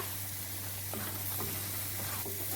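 Brinjal thokku sprinkled with coriander leaves is stirred in a pan, giving a constant close sizzle with a few light scrapes of the spoon.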